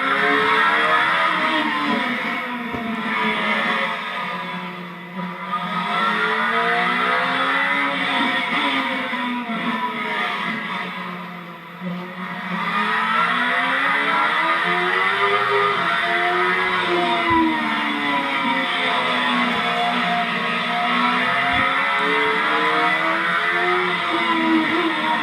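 A classic Mini race car engine revs hard on a racing circuit, pitch sweeping up and down through gear changes and corners, loud and continuous with brief dips as it lifts off, no talk.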